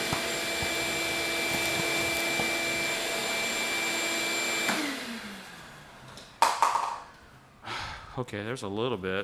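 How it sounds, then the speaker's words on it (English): Shop vacuum pulling debris out of a burnt Ferrari 360 during a garage teardown, a steady loud whine for about five seconds that then cuts off, followed by scraping, rustling and someone talking nearby. "So I'll pick through a little bit, vacuum it up, pick a little bit, vacuum"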